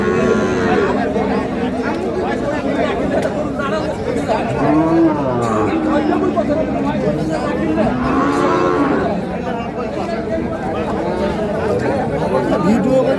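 Sahiwal, Sindhi and local-breed dairy cows and calves moo at a busy village cattle market, with a couple of drawn-out calls rising over constant crowd chatter and talk.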